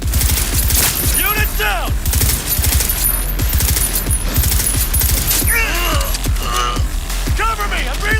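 Rapid gunfire from the video game Cyberpunk rings out in sharp, repeated bursts through a dense, loud combat mix, while voices shout and talk over the shooting.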